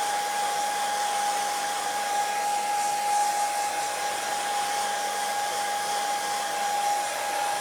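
Hair dryer blowing a steady, loud airflow hum with a constant whine over black paint on Christmas tray decor, running without a break and with no voices.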